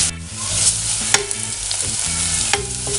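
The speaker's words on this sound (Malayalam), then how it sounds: "ചുവന്നുള്ളിയും വെളുത്തുള്ളിയൊക്കെ നന്നായിട്ട് മൂത്തിട്ടുണ്ട്." Shallots and garlic sizzle steadily in hot oil for mango pickle while a spoon scrapes and stirs the pan in repeated close strokes.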